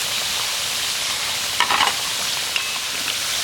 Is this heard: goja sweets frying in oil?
yes